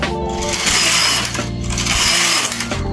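A knitting machine carriage runs across the final needles while short-row knitting a V-shaped design, a steady close mechanical whirr and clatter with rhythmic rattling passes, loud and continuous throughout.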